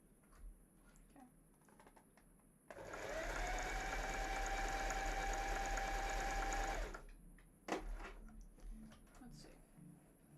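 A sewing machine stitches a zigzag at a wide width setting in one continuous whirring, rattling run of about four seconds, close and clear, bracketed by quiet handling sounds before and after.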